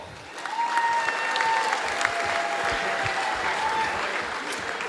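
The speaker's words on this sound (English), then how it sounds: "Give her a big clap." Loud, sustained applause from a crowd at a trans-Tasman woolhandling test competition, clapping continuously without a break, with some faint whistles over it.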